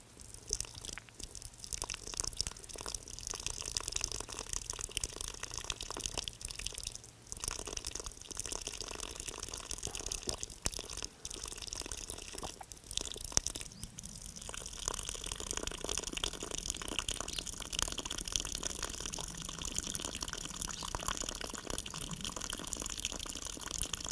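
Water from a lota pours into one nostril and trickles out the other during jala neti nasal cleansing, a faint, close, continuous dribbling and splashing with occasional drips and brief pauses.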